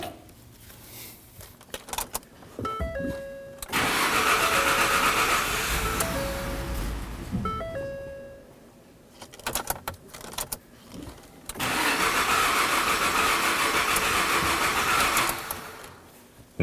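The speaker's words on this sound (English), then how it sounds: "Now that it's stalled out and won't start again, we know that we've depressurized the fuel system." A Ford F-150's 3.5L V6 engine cranks and runs with a steady rumble, goes quiet, then cranks and runs again. The fuel pump is unplugged, so the engine eventually stalls. The sound is close and fairly loud, with no talking.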